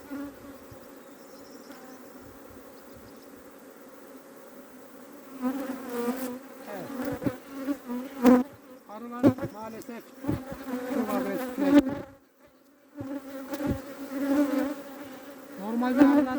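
Agitated honeybees at a hive in Adana, the bees irritated after agricultural spraying, a steady close buzz that swells into louder bursts as bees fly past, with brief handling knocks and a short drop midway.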